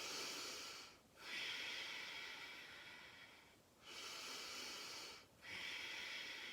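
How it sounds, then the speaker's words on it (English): Slow, deep breaths through the nose during a children's yoga practice, soft airy hisses with three clear pauses between breaths, close and quiet. "you're breathing in and out through your nose"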